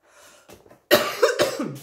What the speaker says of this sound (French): je tousse encore